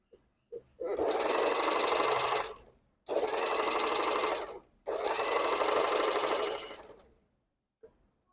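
A Janome portable sewing machine, repaired after a broken gear, runs and stitches in three loud, steady bursts of a few seconds each with short pauses between, and a few faint clicks at the start and end.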